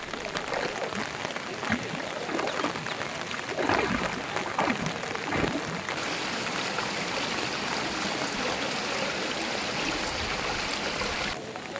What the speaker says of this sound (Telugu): కూచిపూడిలో రోడ్లపై నుంచి వరద నీరు ప్రవహిస్తోంది.